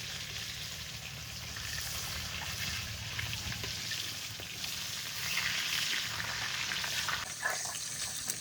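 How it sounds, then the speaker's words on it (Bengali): Fresh rita fish fries in hot oil over a cooking fire, a soft, steady sizzle with faint crackles and occasional bubbling, fairly quiet and continuous. "দেওয়ার সাথে সাথেই তো একটু ভাজা হয়ে গেল কাকিমা, তেলটা সুন্দর গরম হয়েছে।"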